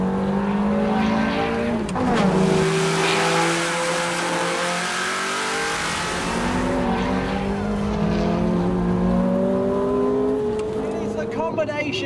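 A Ferrari 430 engine revs hard and loud, pitch sweeping up through gears with a raspy exhaust note, dropping and climbing again between shifts.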